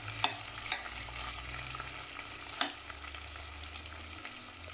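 Beans and half a tomato cook in a pan, giving a soft, steady frying sizzle with a few sharp scraping clinks of stirring, moderately quiet and without talk.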